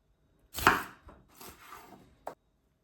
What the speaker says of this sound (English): we're just gonna chop off most of the end, and then we're gonna cut steaks out of the broccoli